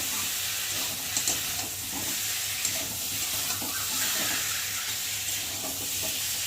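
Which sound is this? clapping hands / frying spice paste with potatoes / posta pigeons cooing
frying spice paste with potatoes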